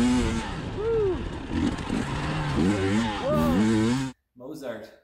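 2020 KTM 300 XC TPI two-stroke dirt bike riding on a trail, a loud close engine revving up and down through gears with a rising and falling whine, then a brief cut and a short burst of revving.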